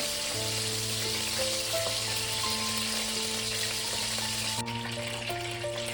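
Shrimp frying lightly in a pan for restaurant-style mixed Schezwan fried rice, a steady broadband sizzle running the whole time, with tonal hums and beeps layered over it.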